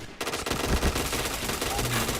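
Rapid automatic gunfire in the shooter game Point Blank, a dense continuous burst of shots that starts abruptly and stays loud and close throughout.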